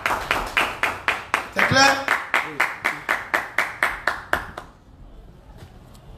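A church congregation claps in acclamation, a steady beat of about a dozen loud, even claps, while a preacher's voice speaks briefly over them before the clapping stops.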